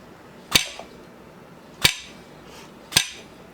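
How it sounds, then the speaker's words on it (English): Three sharp, separate knocks about a second apart as strawberries are pressed onto an Easy Chopper slicer that cuts them into quarter-inch slices, close and clear over a quiet room with no talking. "make quick work out of this and get them loaded on the trays. You just lay them on there, and it slices them for you"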